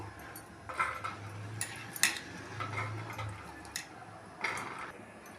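Light clinking and tapping of corn cobs set down on a metal idli steamer plate, a few soft knocks and clatters at irregular intervals, fairly close and moderately quiet.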